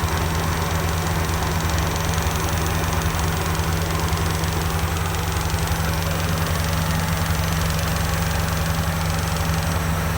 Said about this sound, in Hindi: आइडल के ऊपर बड़ी ऊंची किस्म की टक टक टक टक टक टक ऐसे करके आवाज़ आ रही है हेड के अंदर से